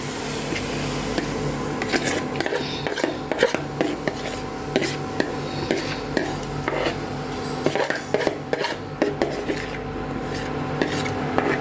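Grated raw mango going into a wok on a lit gas stove, with scraping, clinking metal and rustling handling sounds against a steady background hum.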